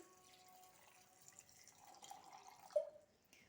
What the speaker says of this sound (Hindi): एक गिलास के करीब इसमें पानी ऐड करेंगे।